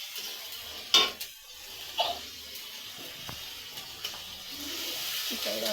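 Chicken curry masala with turmeric, chili powder, ginger and cumin paste being sautéed in a pan, quiet sizzling under sharp clanks of a spoon against the pan and scraping stirs, close and without talk.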